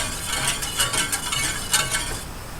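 Spoon stirring hot milk in a pot on a stove for hot chocolate, a run of light metallic clinks and scrapes in an irregular rhythm, close and fairly clear over a soft background.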